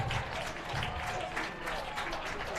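Applause from a small, socially distanced, masked crowd at a high school track meet, steady scattered clapping throughout, moderately distant with outdoor ambience and no nearby voices.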